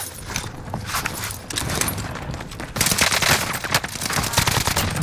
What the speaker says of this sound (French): J'ai subi des tirs nourris.